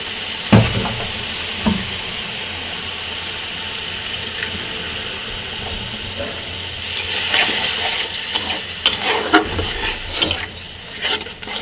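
Spiced water pours and sizzles in a pan of bhetki fish, a hissing, bubbling wash that grows busier near the end with clinks and stirring.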